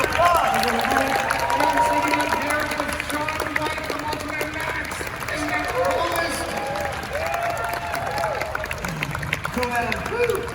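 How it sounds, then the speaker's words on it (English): Applause and cheering from a convention crowd at an Ultraman event, a long steady roar of clapping with background crowd babble and scattered voices. "Have a big round of applause."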